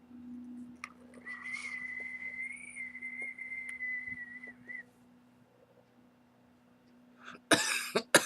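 A thin, steady whistle of air through a vape's large airflow hole runs for a few seconds beside a low hum, followed by a brief pause and then a few harsh coughs.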